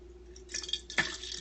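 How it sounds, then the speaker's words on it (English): A small splash of water is poured into an empty aluminum can, giving a few quiet drips and a short liquid gurgle, faint and close. "You're going to put a little bit of water inside the"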